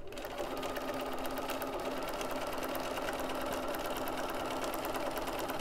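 Close and steady, a sewing machine runs continuously as it stitches the seam of a slip-on head cover, following the earlier stitching line.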